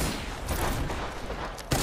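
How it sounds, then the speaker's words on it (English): A short, dense burst of rapid gunfire in a video game, a sniper firing amid a noisy firefight, with a sharp loud crack near the end. "Oh, being sniped."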